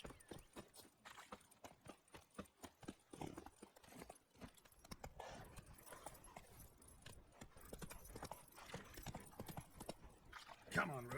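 Roach the horse's hooves clip-clop in rapid repeated strikes in The Witcher 3, steady trotting steps over ambient game sound with occasional speech-like noise.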